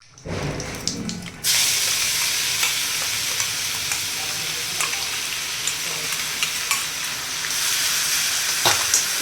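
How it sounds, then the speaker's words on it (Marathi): Ground masala paste (vatan) with a pinch of asafoetida is stirred into hot oil and fries with a loud, constant sizzle, accompanied by occasional scrapes and clinks of a spoon against the pan. "वाटण आपल्याला एक दोन मिनटं जास्त असं परतून घ्यायचं आहे"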